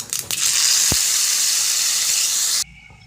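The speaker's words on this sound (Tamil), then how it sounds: "இப்போ எண்ணெய் காஞ்சிடுச்சு நான் வந்து கடுகு உளுத்தம் பருப்பு எல்லாம் போட்டிருக்கேன் இது கொஞ்சம் பொறிஞ்சு வரட்டும்" Mustard seeds and urad dal spluttering in hot oil for a Kerala-style ash gourd curd curry, a steady loud broadband sizzle with a few early pops that cuts off abruptly near the end.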